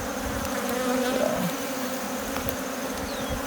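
Honeybees hum steadily around an open hive as a continuous, dense drone at close range, with no talking.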